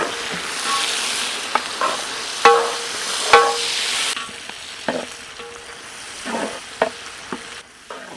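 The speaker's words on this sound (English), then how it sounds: "saute until onions become brown color" Chopped onions with spices sautéing in hot oil in a pan, a bright sizzle that fades midway, broken by sharp spatula scrapes and taps at irregular intervals; no one speaks.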